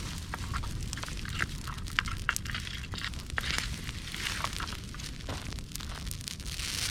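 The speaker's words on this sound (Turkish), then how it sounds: "şu anda şu ateşe bile yaklaşılamıyor" A fire burns through green trees and bushes, crackling and popping in scattered sharp snaps over a continuous roaring rush, close and fairly loud, with no voices.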